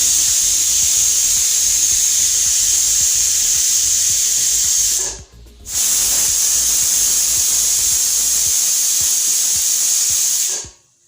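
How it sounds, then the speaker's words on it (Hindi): A pressure cooker on low flame, cooking semolina for laddu, whistles with a loud, steady hissing steam jet that briefly cuts out midway, then resumes and stops near the end. "ये चौथी सीटी बज गई।"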